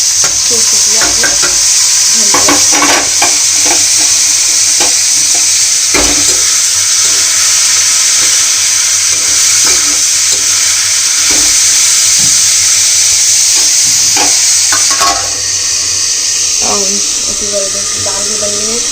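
Dal stirred in a pot during morning cooking, with scraping strokes and a constant loud sizzling hiss while a person talks over it.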